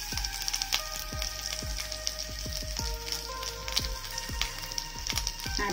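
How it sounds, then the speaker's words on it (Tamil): Grated coconut and thuthuvalai leaves frying in oil for a chutney, giving a steady close sizzle with frequent small pops and crackles spread throughout. "இது ஒரு நிமிஷம் ஆயில ஃப்ரை பண்ணிட்டு ஆஃப் பண்ணிக்கலாம்"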